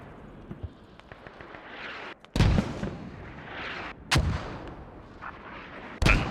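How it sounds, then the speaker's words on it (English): Mortar rounds fire in a squad-based military video game match, three loud booming impacts spaced a couple of seconds apart over steady battlefield ambience. "this is mortars"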